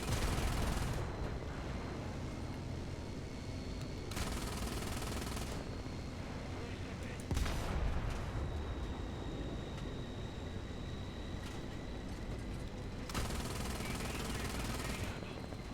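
Machine gun fire in the tank combat game War Thunder, long bursts of rapid automatic shots with short pauses between them, set against engine rumble and a voice.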